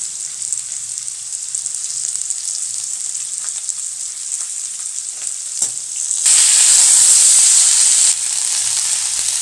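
Potatoes and black cumin sizzle steadily in a hot pan, a continuous close frying hiss with faint stirring clicks, swelling much louder for a couple of seconds near the end before settling back.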